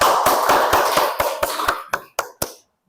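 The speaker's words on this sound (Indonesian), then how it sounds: "Kita berikan aplaus." A classroom group claps for presenters who have just finished, a dense burst of many hands that thins into a few last scattered claps before stopping.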